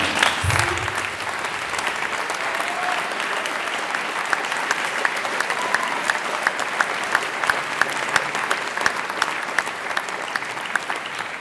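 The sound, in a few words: audience applause for the singers and conductors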